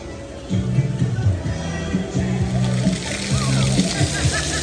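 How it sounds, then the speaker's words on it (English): Theme park fountain on the Lost Continent at Universal Islands of Adventure spraying water onto visitors, a steady close splashing hiss running under an amplified voice talking to children. "this is a fountain that sprays on people and talks to the people"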